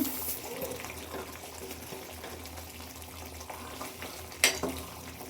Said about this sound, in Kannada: ಈ ಥರ ಚೆನ್ನಾಗಿ ಎಣ್ಣೆಯಲ್ಲಿ ಫ್ರೈ ಆಗ್ಬೇಕು ಮಸಾಲನ